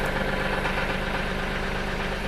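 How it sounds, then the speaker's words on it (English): A Max 26 XLT forklift engine idles at closed throttle, a steady, close, low rumbling drone with an even mechanical throb and no talk over it. "gonna let her idle for a little bit."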